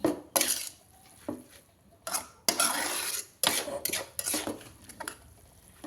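A soy-sauce stir-fry is stirred in a pan, giving intermittent scraping and clanking of a utensil against metal in bursts separated by short quiet gaps, near and fairly loud, with no talking.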